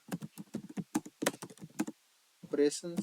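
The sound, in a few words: typing a code comment on a computer keyboard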